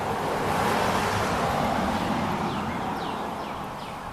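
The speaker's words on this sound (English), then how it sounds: "lots of traffic today." Road traffic passing near pine trees being trimmed: a steady, loud broadband roar of vehicles going by that fades slightly toward the end, with faint bird chirps above it.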